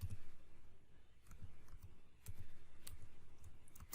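Capital letters are typed on a computer keyboard in quick, uneven bursts of soft clicks, close and fairly quiet.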